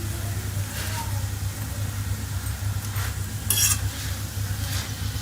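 A green chana paratha fries in ghee on a pan, giving a steady low sizzle with a brief brighter scrape partway through, close and continuous, with no voices.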